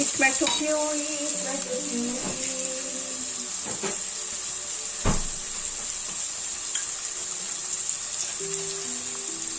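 Tomato puree hits a hot pan for sholey kulche, giving a steady bright sizzle with occasional stirring clinks and a faint voice underneath.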